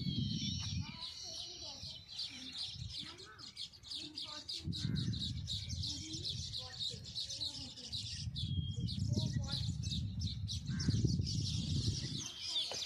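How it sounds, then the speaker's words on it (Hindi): Birds chirping and calling in quick, bright bursts at Khimsar sand dunes in Rajasthan, fairly close and steady throughout, with people talking underneath at times. "ये पक्षियों की आवाज़ सुन पा रहे हो"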